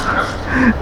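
A dog gives a short, high whimpering yip, brief and close, with faint background noise.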